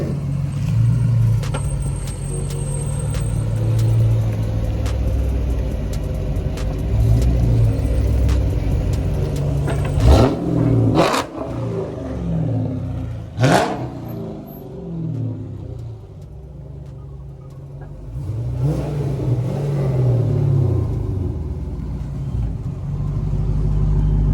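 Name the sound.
2012 SRT8 car engine revving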